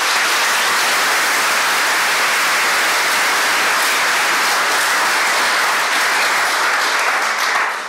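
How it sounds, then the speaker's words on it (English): A large audience at a public science panel on Hawaii and black hole imaging applauds the panelists, a loud, dense, unbroken roar of clapping that holds steady before tapering at the end. "Let's give our panelists a round of applause"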